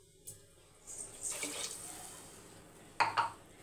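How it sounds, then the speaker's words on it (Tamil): Water is poured into a cooking pot for rice and lentils in a bursts of splashing and trickling, with a short pour, a longer steady stream, then two quick splashes near the end. "இப்போ வந்து தண்ணி சேர்த்துக்கலாம்."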